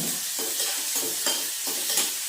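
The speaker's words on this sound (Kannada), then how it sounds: "ಎಣ್ಣೆ ಕಾಯಿಸಿ ಈರುಳ್ಳಿ ಹಾಕ್ತಾಯಿದ್ದೀನಿ. ಈರುಳ್ಳಿ ಚೆನ್ನಾಗಿ ಫ್ರೈ ಆದಮೇಲೆ" Onions fry in hot oil with a bright, continuous sizzle, broken by rhythmic scrapes of stirring about every half second, close and alone.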